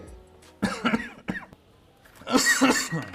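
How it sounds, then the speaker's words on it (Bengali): A person coughs several times in short, close bursts with brief pauses between, in a quiet indoor scene. "তোমার কাশি হলো কখন?"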